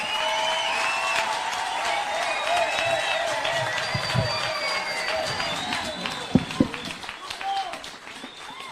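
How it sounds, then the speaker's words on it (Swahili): An audience applauds and cheers to welcome President William Ruto at a church gathering, with a steady wash of clapping crowd noise and a few sharper claps near the end. "tumpigie makofi"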